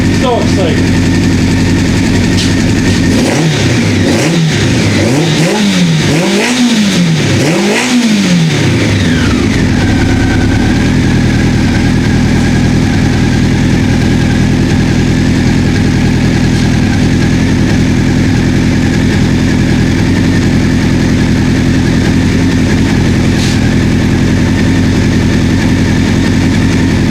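A 1984 Honda CB700SC motorcycle engine runs close by, revving hard in several rising and falling pulls early on, then settling into a steady idle with a faint squeak of rear-tire resistance.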